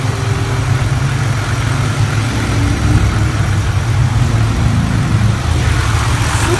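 The supercharged engine of a custom Buick Park Avenue idles with a loud, deep, steady rumble close by, holding constant throughout without any talking.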